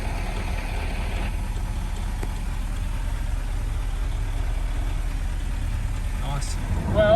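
Ford BF XR6 with a 2.5 Barra engine swap cruising along, a steady low engine and road drone filling the cabin without a break, with a faint chime near the end.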